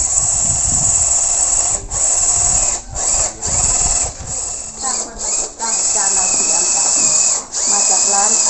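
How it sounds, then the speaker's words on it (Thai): A power drill whines loudly and steadily while boring holes during home construction, with brief pauses and restarts as the bit works through the material; no talk is heard over it. "เจาะรูเจาะรู"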